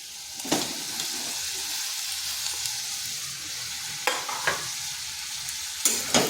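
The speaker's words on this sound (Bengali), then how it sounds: "এগুলোকে মশলার সাথে ভালো করে একটু সময় নিয়ে কষে নিচ্ছি।" Constant sizzling from a frying pan as raw plantain and potatoes cook in spices, broken by a handful of scraping strokes as the food is stirred.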